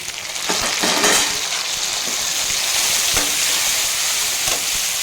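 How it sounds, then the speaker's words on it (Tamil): Tomatoes sauté with onion and garlic in a hot pan, giving a close, continuous sizzle with a few soft stirring scrapes and no voices. "நல்லா வதக்கி விட்டுடலாம் இப்போ வந்து தக்காளி நல்லா வதங்கிடுச்சு"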